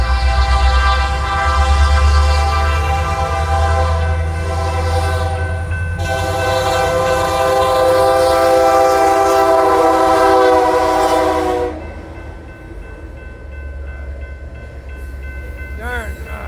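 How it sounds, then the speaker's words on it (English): A loud freight train rumbles close by while its horn blares in long, sustained blasts, then the horn stops and the rolling rumble continues. "Oh, here comes that train coming in."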